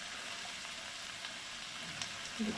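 Kashmiri chili powder frying in a thick masala for tomato chicken curry, a constant close sizzle with a faint stir and a small scrape near the end.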